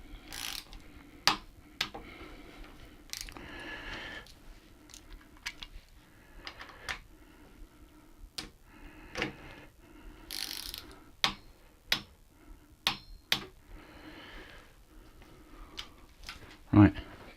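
Bicycle handlebar bolts are tightened to torque with a wrench, giving scattered sharp ratcheting clicks and clacks that come close and intermittent over a quiet room, with a few louder snaps near the end and no voices.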